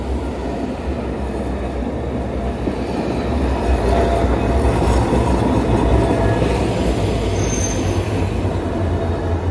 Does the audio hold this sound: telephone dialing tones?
no